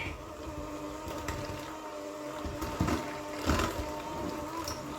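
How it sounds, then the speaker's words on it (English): A battery-powered hand mixer whirs steadily as it beats sugar into cream cheese for a cheesecake, a constant motor hum at close range with no talking. "We are going to mix that up first together with my handy dandy battery powered mixer."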